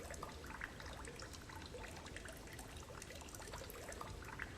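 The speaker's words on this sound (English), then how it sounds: "There's water somewhere just on my left, I think." Steady close water trickle in a pitch-black 3D-sound video game, a soft continuous pouring hiss that stays even throughout with no speech over it.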